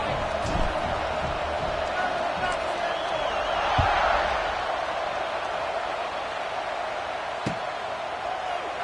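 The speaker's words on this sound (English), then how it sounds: "this crowd is buzzing after that last score" Steady crowd murmur fills a football stadium after a score, a broad continuous buzz with a brief swell around the middle and faint thumps, with a commentator talking over it.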